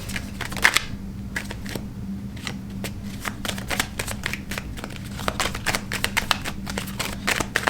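A deck of tarot cards being shuffled by hand, with a steady run of crisp, rapid riffling snaps close to the microphone and no talking.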